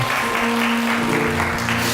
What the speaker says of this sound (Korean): 하나님께 감사의 박수가 드립니다.